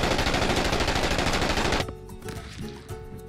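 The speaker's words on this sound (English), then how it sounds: "That's a warning shot." Loud, dense automatic gunfire in a video game rattles in a rapid continuous burst for nearly two seconds, then cuts off, leaving quieter game noise and a few faint scattered sounds.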